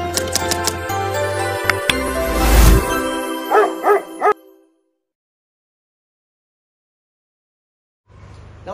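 A dog in a dog shop lets out a few sharp barks over a low background hum, then goes quiet before the hum returns.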